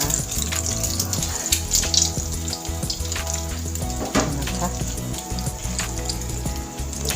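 An egg fries in hot oil in a pan, giving a steady, dense sizzle and crackle that runs without a break at fairly close range.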